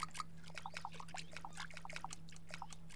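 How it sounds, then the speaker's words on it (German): Water pouring and trickling onto carrot plants in the farming video game Summer in Mara, a steady soft splashing stream with small repeated droplet bursts, heard alone and fairly quiet. "Dann gehen wir erstmal die Karotten gießen."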